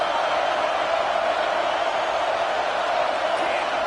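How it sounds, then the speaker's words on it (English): Stadium crowd roaring steadily at a football game, a loud dense wall of cheering that holds for the whole stretch without a break, with no clear voices standing out. "Listen to this crowd just shaking the girders of this place"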